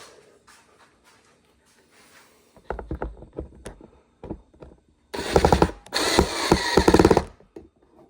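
A power driver sends long screws home, first with brief bursts of whirring and clicks, then a sustained loud buzzing run as a screw is driven down, close-up, with no voices.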